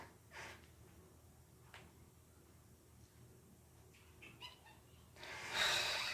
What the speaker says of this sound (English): My mom letting the cat in to mess up my video.